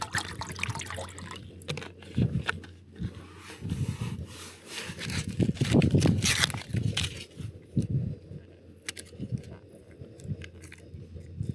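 Water is poured into a pot to steam a sticky toffee pudding on a petrol camping stove during wild camping in severe wind, heard as close, uneven splashing mixed with crunchy handling noises.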